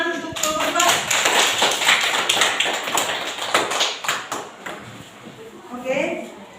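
Steady applause from a classroom full of people, dense rapid clapping that swells then gradually thins out, with a few voices chiming in near the end.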